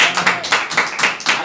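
A church congregation claps together in repeated bursts, about six sharp rhythmic waves of hand claps close by with a faint voice underneath.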